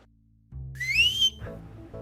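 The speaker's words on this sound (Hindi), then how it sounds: "सीटी लगा देना" A sharp, rising whistle sounds loud and close once, backed by low music in a Pakistani television drama scene.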